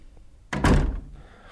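A monster batters a door in the game Nikopol, one heavy booming thud that rings briefly and fades, loud and close against a quiet background.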